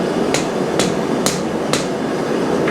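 Four evenly spaced, sharp metallic hammer blows on a hot iron rail scroll at a forge, loud and close over a steady background roar.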